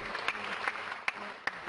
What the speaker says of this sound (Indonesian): Tepuk tangan buat bapaknya.